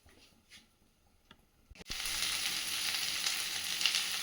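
A dried red chilli drops into hot oil, and after a few small clinks a loud, close sizzle bursts up and keeps crackling steadily to the end.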